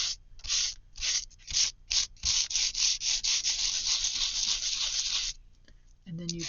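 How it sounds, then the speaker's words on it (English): Sandpaper rubbed by hand across a magazine page in rapid back-and-forth strokes, a close, dry, papery scratching in short bursts that run into a steady stretch before stopping. "and then just start sanding."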